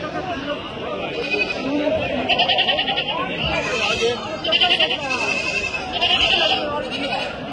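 Goats bleat several times amid a busy crowd at an open-air sheep and goat market, with people talking throughout.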